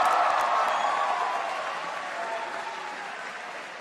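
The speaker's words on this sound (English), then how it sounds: "Let's give him a round of applause." Audience applause follows a guest's introduction at a political event where Senator Bernie Sanders announces a free state-college tuition proposal; dense, steady clapping fills the room and slowly fades.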